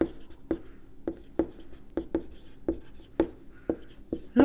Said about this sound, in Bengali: আমি লিখে দিচ্ছি, পুট বন্ড, তলব্য বন্ড,